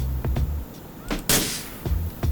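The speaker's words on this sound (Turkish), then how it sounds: "Bu da patladı abi. Lastikler patlıyor." Sharp burst-like pops of tires bursting from gunfire on a Ford Transit Connect in GTA 4, a few scattered blasts with one loud broadband crack in the middle, over low rumbling background.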